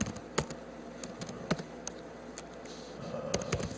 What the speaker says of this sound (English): So I just started typing